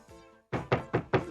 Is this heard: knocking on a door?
yes